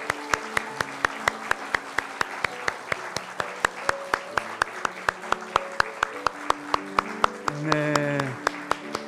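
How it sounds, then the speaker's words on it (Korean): Church congregation clapping to welcome new members at a Sunday service, a steady run of hand claps over sustained organ or keyboard chords, with a brief swell near the end. "박수로 환영하겠습니다."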